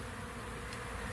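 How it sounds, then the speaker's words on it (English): A small honeybee swarm on a tree limb, with bees fanning pheromone, makes a steady continuous buzzing hum close by, with no break for its whole length. "see the bees right there fanning the pheromone"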